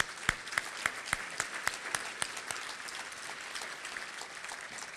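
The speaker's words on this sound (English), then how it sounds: "Let's give them a round of applause." A crowd at a county government address claps, with a few sharp, evenly spaced loud claps standing out over a softer, sustained spread of applause that thins toward the end.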